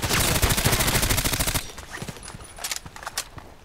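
Rapid pistol gunfire in the shooter game Contract Wars, a dense loud burst of shots for about a second and a half, then quieter scattered clicks and footstep-like taps.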